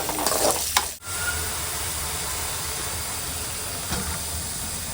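Green and dried chilies, onion, ginger, garlic, coconut and tamarind fry in oil with an even, steady hissing sizzle, plus a brief clatter of utensils at the very start.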